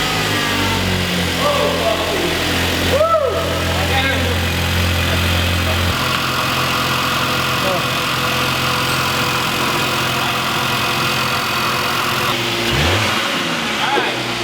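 VW Golf MK7 Alltrack with a bigger IS20 turbo and downpipe, engine running loud and near, droning and shifting pitch as it accelerates, with a rev change midway and another surge near the end.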